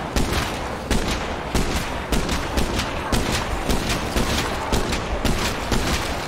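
Video game gunfire rings out as rapid, evenly repeated shots in a dense, loud barrage that runs throughout, with no talking over it.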